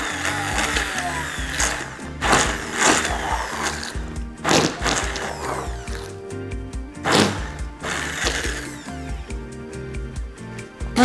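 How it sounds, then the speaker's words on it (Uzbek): A blender purees baby porridge in several short loud whirring bursts separated by quieter pauses, close by. "Bolaga qiynalmasligi uchun biroz blender qilamiz."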